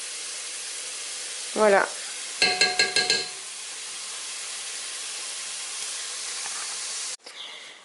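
Onions and garlic sizzle steadily in hot oil in a pan for a coconut chicken dish, a constant close hiss broken by brief stirring scrapes and a short spoken word.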